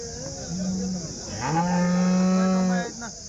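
Two loud, drawn-out cattle moos close by at the Sunday cattle market in Chintamani, the second long and sustained, with faint background chatter in between.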